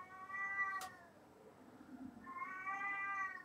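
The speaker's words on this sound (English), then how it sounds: "My cat is meowing a lot, so I have to go." A domestic cat gives two long, drawn-out meows separated by a brief pause, clear and fairly close against a quiet room.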